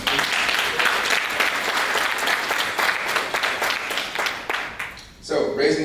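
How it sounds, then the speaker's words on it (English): Applause from a large audience honoring Bank of America, a dense steady roar of clapping that fills the room for several seconds, then dips and fades as it ends. "So round of applause for Bank of America"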